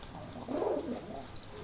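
A single soft male pigeon coo, low and throaty, rising briefly over a quiet background hum.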